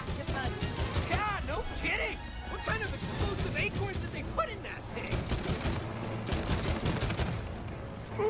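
Rapid gunfire and crashing impacts ring out in It Takes Two, loud and busy, with excited voices talking over the shots.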